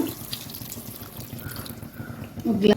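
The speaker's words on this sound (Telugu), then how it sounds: "అదే గ్లాస్తో రెండు గ్లాసులు వాటర్ అయితే వేసుకున్నాను" Water tipped from a glass into a tamarind fish curry in a pan makes a short, soft splashing pour that grows briefly louder at the end, alone without talk.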